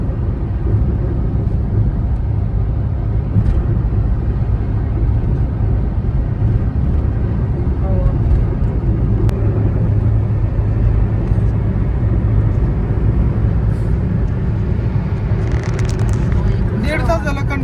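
A car cruises along the Samruddhi Mahamarg expressway between Mumbai and Shirdi, its interior filled with a continuous loud low road and engine rumble.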